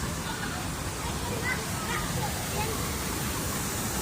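Water from the Stormforce water ride at Drayton Manor pours and sloshes steadily in its splash zone, a continuous broad wash of spray with faint crowd murmur underneath.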